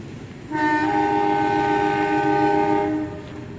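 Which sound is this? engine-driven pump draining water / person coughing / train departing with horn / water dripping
train departing with horn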